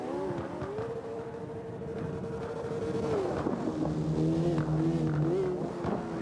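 A Mazda Miata race car drives at speed on a cone course, its engine note rising and falling through shifts and revs, loud and close with tire noise.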